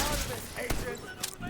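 Turret firing in The Division 2, quick bursts of gunfire with sharp individual shots standing out, mixed under speech.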